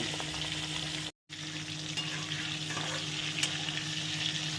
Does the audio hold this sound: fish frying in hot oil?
yes